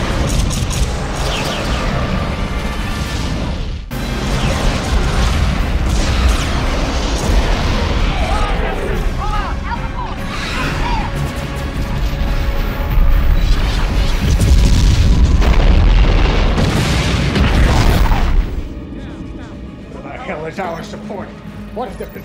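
Babylon 5 space battle at Proxima III: heavy weapons fire and booming explosions rumble continuously for about twenty seconds under shouted radio-style commands, fading near the end.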